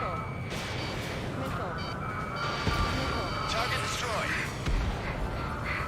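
Missiles strike and destroy targets in the Ace Combat 7 flight game during the Battle of Farbanti, dull booms rolling under a constant jet and engine roar, with radio voices and warning tones over the top.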